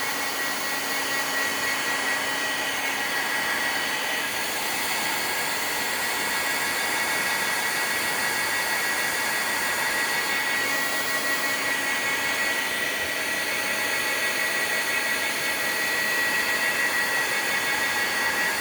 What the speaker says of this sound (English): Normally you just put the heat tool on it.